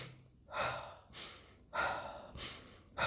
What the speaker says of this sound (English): now we're gonna do the breathing